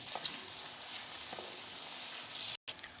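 Ginger garlic paste sizzling with onions in hot oil for Lahori chana, a steady close crackle with light stirring taps and one brief dropout, no voices.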